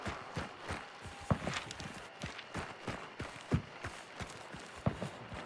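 Video game horse hooves clip-clop in an irregular walking rhythm, with a few sharper knocks standing out over a soft, noisy background.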